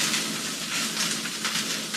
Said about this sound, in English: now I'm just going to let it kind of just wait and sizzle